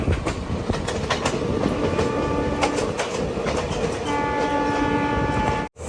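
Trains rolling through an Indian railway yard on the Delhi to Shri Ganganagar line, with a steady rumble and clicking wheels close by and a sustained horn tone sounding midway before a sudden cut.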